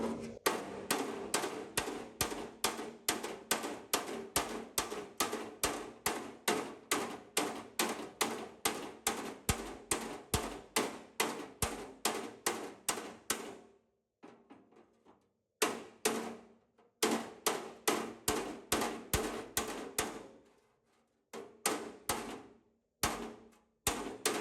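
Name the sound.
hammering down high spots on car body panel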